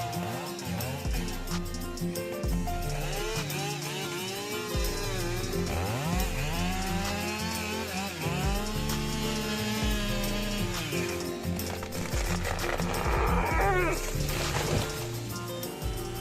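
Chainsaws cutting trees, a steady loud engine whine with revving pitch changes running throughout, with a narrating voice over it.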